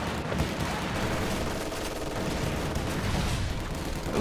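Battle noise from a strategy video game, with a machine gun firing amid a steady, dense wash of gunfire and explosions that runs throughout at an even level, with no clear separate bursts.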